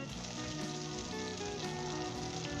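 Onions fry in oil in a pan over medium heat for a Pakistani-style capsicum keema, giving a steady, dense sizzle that continues without a break at close range, with no talking over it.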